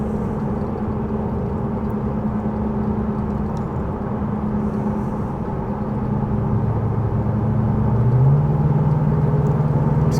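A 2010 Ford SVT Raptor truck engine given gas, a steady low rumble from inside the cab that rises in pitch and loudness toward the end.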